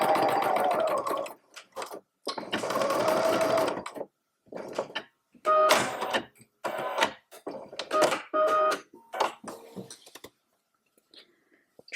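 A sewing machine stitches the closed end of a fabric grocery bag holder, running in several short bursts of rapid mechanical chatter separated by brief pauses.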